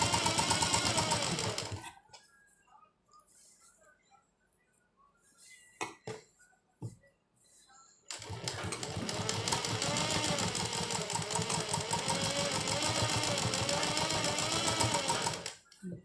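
An electric sewing machine stitches a kachhera in two long, loud, fast-chattering runs, separated by a quiet pause with scattered handling knocks.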